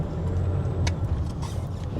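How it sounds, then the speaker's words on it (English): Diesel car engine idling and running steadily nearby, a low throbbing hum with a faint high whistle above it, plus a couple of brief clicks. "Hey, whistling diesel."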